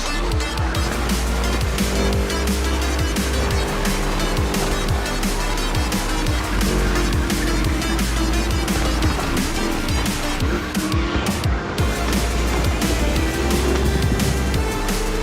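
A car lapping a course in The Crew Motorfest, its engine roaring loud and steady the whole way with shifting pitch, along with tire noise and rushing wind and surroundings.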